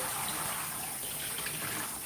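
Room-temperature water runs steadily from a tap into a dog grooming tub, a loud, continuous splashing gush with no break and no voices over it.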